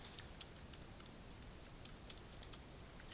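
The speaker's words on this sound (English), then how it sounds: "So let's type that in." Typing a search on a computer keyboard for a library catalogue, a faint patter of light key clicks in short irregular bursts, quiet and alone.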